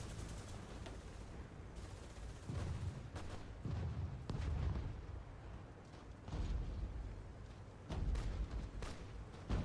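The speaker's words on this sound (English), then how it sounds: "My new division is here and full of tanks, and tanks go brr." Tank gunfire and artillery in the strategy game Hearts of Iron IV, a steady rumble of low booms and crackling shots, with heavier blasts swelling in bursts every couple of seconds and no talk.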